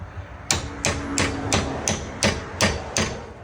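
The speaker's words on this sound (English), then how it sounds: "Hammer it through." Eight sharp metallic hammer blows drive a bolt through a Dodge Journey's rear lateral link, struck at a steady, fairly quick pace, close by with no talking.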